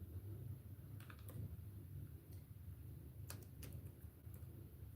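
Typing on a phone or computer keyboard in a quiet room, with a few scattered, faint clicks and taps spread out over a steady low hum.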